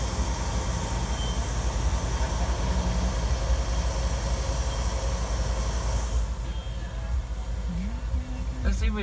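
A CSX coal train passing, a loud, continuous roar of rolling wagons and hiss that holds steady, then drops to a quieter rumble near the end.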